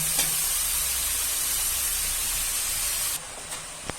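Spinach sautéing in a hot pan gives a loud, steady broadband hiss and sizzle that holds evenly, then thins slightly near the end with a faint clink.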